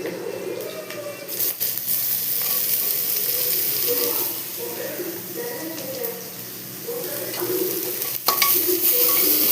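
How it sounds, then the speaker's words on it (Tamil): Onions frying in a pan with garlic and scrambled egg for home-style chicken rice give a continuous sizzle with stirring, while a voice talks over it. "இப்போ வெங்காயம் போட்டுடுறேன்"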